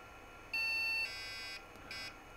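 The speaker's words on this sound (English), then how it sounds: "Power on. And we should get some beep codes." A few electronic BIOS POST beep codes sound in a short sequence from a Commodore PC 10 board, with a long high tone followed by shorter ones, over faint background hum.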